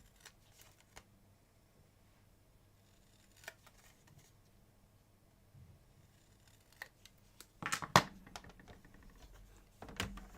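Scissors snip the corners off a piece of scored cardstock during a cardmaking demo, making a few soft, separate cuts with quiet paper rustling, then a louder burst of snipping and handling toward the end.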